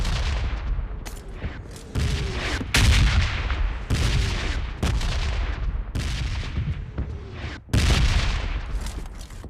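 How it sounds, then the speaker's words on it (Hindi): Rapid bursts of gunfire in PUBG Mobile Lite, a battle royale shooter, crack out in loud repeated volleys with booming reports across a busy in-game soundscape, with no talk over them. "फिर मुझे किसी बंदे की फायरिंग का साउंड आया"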